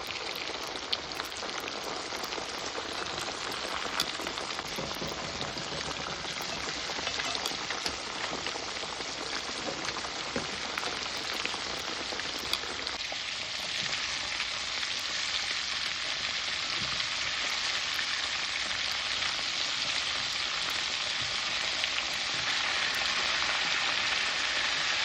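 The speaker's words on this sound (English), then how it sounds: "So the breast them I fry for 10 minutes, 5 minutes on one side" Chicken breasts and wings deep frying in hot oil, a dense, steady sizzle and crackle that carries on alone for about 25 seconds with no talk.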